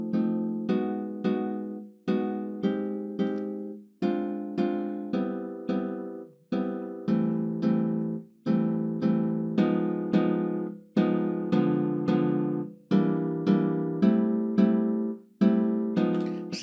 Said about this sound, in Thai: เสียงคอร์ดนะครับมันก็คือตัวโน้ตที่เล่นตั้งแต่3ตัวขึ้นไปพร้อมกัน